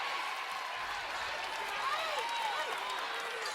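Ohio State and Virginia Tech fans applaud during a women's NCAA Elite Eight basketball game, a faint, steady patter of clapping from a distant arena crowd.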